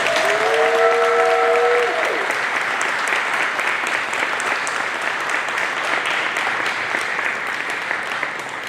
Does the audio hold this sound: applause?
yes